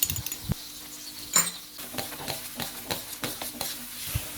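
A sauce of water, light soy sauce, oyster sauce and a little sugar is stirred in a pan for a Thai stir-fry of fried snakehead fish with celery. Soft scraping and clinking of a utensil against the pan come in irregular strokes over a faint sizzle.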